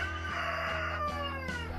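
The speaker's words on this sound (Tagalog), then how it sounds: "mga iba-iba yung mga alaga nilang mga manok" Farm chickens of mixed breeds, with a rooster crowing loudly and close in drawn-out harmonic calls, several overlapping crows heard over a low background hum.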